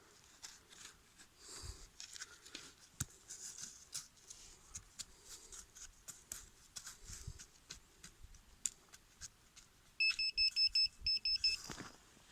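A rapid electronic metal detector signal bursts out near the end, loud and pulsing, after a stretch of scattered rustling and clicking.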